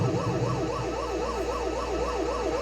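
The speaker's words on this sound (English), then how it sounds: "I like the sound of the siren." In the SNES game Super Chase HQ, a police siren wails in a steady rising and falling pattern over a continuous engine drone, with no talking.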